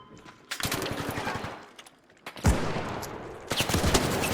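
Bursts of automatic gunfire and single shots from the video game ARC Raiders, loud and close, coming in three separate volleys with short gaps between them.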